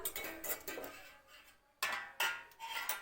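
A metal kadai set down on a kitchen stove, giving a few sharp clanks and scrapes of cookware in two close bursts separated by a brief quiet gap.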